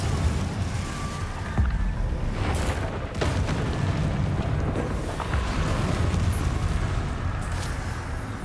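A Confringo fire-blast spell explodes in the Hogwarts Legacy video game, a deep rumbling boom with a sharp burst near the start and another around the middle, set over a steady low roar of game ambience.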